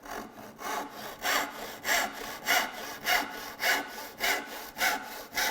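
Tenon saw cutting through wood in about ten even back-and-forth strokes, each a rasping burst, close up and heard with no talk.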